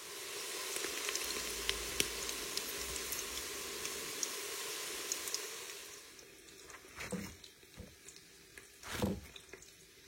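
Cauliflower fritters sizzling and crackling steadily in hot cooking oil for several seconds, then the frying quiets and a few louder splashy stirs or drops of liquid break through near the end.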